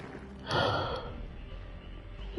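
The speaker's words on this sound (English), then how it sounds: "Oh god, why am I yawning so much?" A person yawns once, a drawn-out breathy exhale rising and fading over about half a second, followed by quiet room tone and a brief click at the end.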